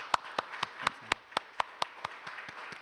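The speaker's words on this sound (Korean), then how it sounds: "우리 청년들 위해서 우리 정말 뜨거운 박수로 같이 한번 우리 축복했으면 좋겠습니다." Sparse, evenly spaced hand claps from a church congregation at an early-morning New Year prayer service, a dozen or so distinct sharp claps in a slow steady rhythm, fairly quiet and without talk.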